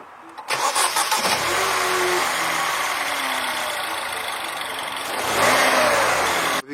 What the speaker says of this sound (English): I am going to be starting the car for the first time